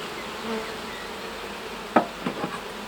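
Soft, steady honey bee buzzing at an Alpine hive, with a few brief clicks and taps in the middle, fairly quiet and close, no talking.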